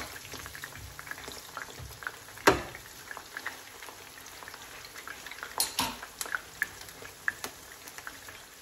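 Chiles sizzling in a hot pan for chiles toreados, a steady soft frying crackle with scattered sharper pops and a few clinks of utensil against the pan, no voices.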